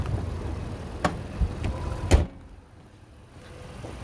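The hood of a 2021 Honda Pilot SE AWD comes down with a few light clicks and taps, then one solid slam, followed by quiet.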